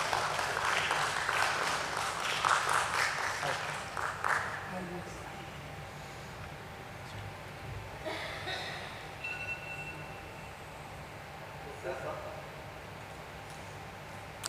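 A round of applause at a BSE stock exchange listing ceremony for NMDC Steel, strong at first and then thinning out into scattered claps and room noise, with speech heard later.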